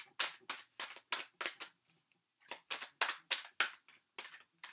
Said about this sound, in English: Sorry, I shuffle a lot.